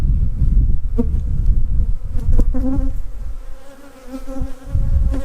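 Honeybees buzzing densely around an open beehive during a brood chamber check, a close, steady swarm drone with individual bees whining past, plus a few clicks and knocks of frames being handled.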